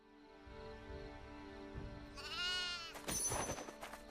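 A sheep bleats in the open-world action JRPG DragonSword: Awakening, a couple of quavering calls rising near the end over soft game music.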